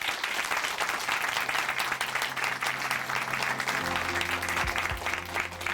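A church congregation claps for a testimony speaker, a sustained wash of applause for several seconds, joined near the end by a low steady hum.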